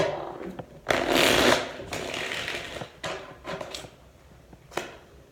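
Tarot cards are shuffled by hand in several bursts of riffling and rustling, close and fairly loud, with soft taps and pauses between them and no talking.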